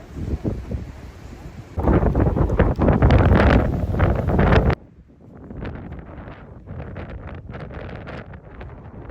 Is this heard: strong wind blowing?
yes